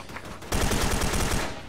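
Rapid bursts of automatic gunfire from the video game Special Force 2 erupt suddenly after a quieter start and continue as dense, loud, rattling volleys with no talk over them.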